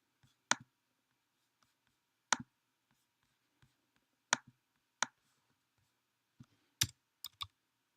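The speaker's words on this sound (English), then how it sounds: "click on the various aspects and delete them" A computer mouse gives sharp, isolated clicks in a quiet room, about eight of them spread irregularly, a few in quick pairs, close and clear with no talking.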